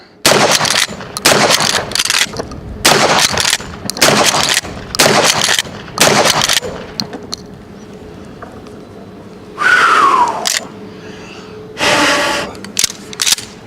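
A 1951 Winchester Model 12 12-gauge pump shotgun fires a rapid string of loud close blasts, each followed by pump-action clatter, then goes quieter with occasional mechanical handling and one more burst later.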